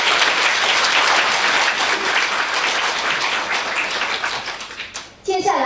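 Audience applause in a university lecture hall honoring Khenpo Rinpoche after a Q&A session, dense sustained clapping from a large crowd that thins and fades out near the end.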